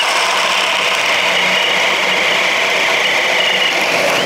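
A cordless drill bores through a pressure treated 4x4, giving a loud, steady high-pitched whine and grinding drone that holds without a break, close up.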